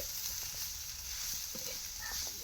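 Marinated clams frying with chopped onion and masala in a hot pan, a steady close sizzle and hiss with faint stirring scrapes.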